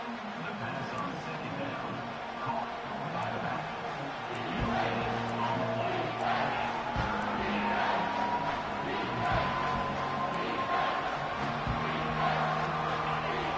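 A college football stadium crowd roars in a sustained, rising wall of cheering and noise on a third down, with a commentator talking over it throughout.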